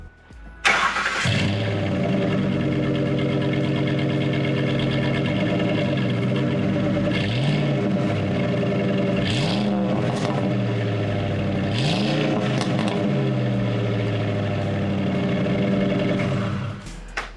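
A 2008 Ford F-150 pickup fitted with an MBRP catback exhaust starts up and keeps running loud and close, its deep exhaust note swelling with several rev blips over a steady idle.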